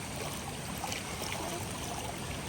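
Rain comes down steadily while water trickles nearby, a dense continuous hiss and patter with no breaks or voices.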